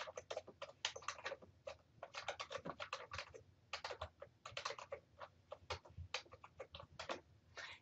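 Someone types a short post on a computer keyboard, producing a quiet, continuous run of quick irregular keystrokes in bursts and short pauses, close up with no voices.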